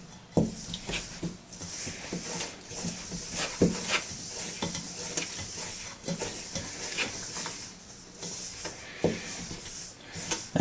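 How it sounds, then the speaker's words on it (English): Cake batter for meteor cakes is mixed by hand in a bowl until it resembles fine breadcrumbs, giving steady scraping and rubbing strokes with irregular soft knocks, fairly close and with no talking. "what we're going for here is we want to mix this. Until the mixture resembles fine breadcrumbs."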